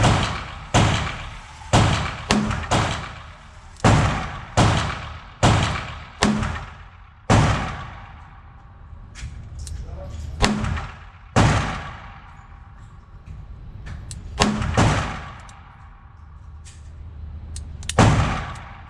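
Kimber K6xs .38 Special revolver fired repeatedly at a range, sharp loud cracks in irregular runs with short pauses and trailing echoes, some shots fired in quick pairs.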